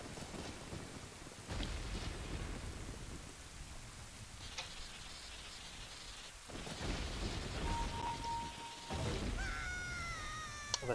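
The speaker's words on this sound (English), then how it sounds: "It was a dark and stormy day," A thunderstorm in The Legend of Zelda: Ocarina of Time brings steady heavy rain with low rumbling thunder surges that come and go. Near the end a few thin tonal chimes and sweeping game sounds rise over the downpour, with no speech.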